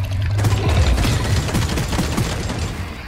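A minigun fires in the video game Deep Rock Galactic, a loud, dense, continuous rattle of rapid shots with a low rumbling thump underneath, sustained for about three seconds without pause.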